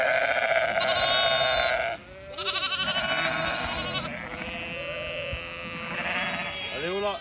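Ewes and lambs bleat at lambing time on a busy farm, overlapping calls near and loud, some long and wavering, others short and high, with chatter mixed in.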